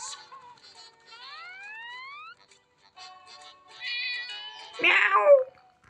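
A cat meows in several drawn-out, rising calls, fairly close and clear against a quiet background, followed by a louder, harsher cry near the end.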